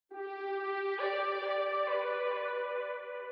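A synth lead runs through a bandpass filter and heavy reverb for a dark trap beat. It sustains one bright note, shifts up to a second note partway through and trails off in a washy reverb tail, heard alone.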